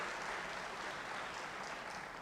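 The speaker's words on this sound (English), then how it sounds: "Let's give them a round of applause for making this happen" An audience applauds the organizing team at the B-Sides Ahmedabad security conference. The clapping forms a steady, dense wash of many hands, fairly faint and distant, with no voices over it.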